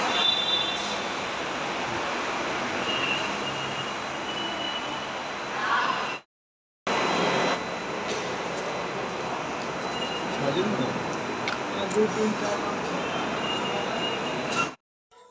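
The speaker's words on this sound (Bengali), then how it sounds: "তো ফাইনালি মেট্রো স্টেশনে চলে এসেছি, তোমরা দেখতেই পাচ্ছ।" Inside a Kolkata metro station, a steady broad roar of station and train noise hums on at moderate level. It drops out for a moment, then resumes.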